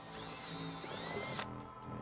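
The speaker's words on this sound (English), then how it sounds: "using a 5/16 drill bit, we're gonna go ahead and drill a couple of small holes in the bumper fascia" A power drill with a 5/16 bit bores into the plastic bumper fascia of a 2007 Hyundai Sonata, whining at a steady high pitch close up, then stopping abruptly and leaving a brief quieter mechanical rattle.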